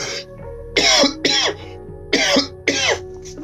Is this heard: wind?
no